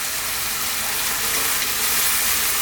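Curry spices of turmeric, chilli, coriander and cumin sizzle steadily in a hot pan as they are stirred, a continuous close frying hiss with no talk.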